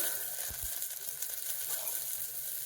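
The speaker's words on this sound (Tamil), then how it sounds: "நல்லா வதங்கட்டும். இப்போ 2 கொத்து கருவேப்பிலை," Curry leaves sizzling as they fry in a pot with oil for a one-pot dal rice, a steady close hiss with a few soft stirring thumps near the start.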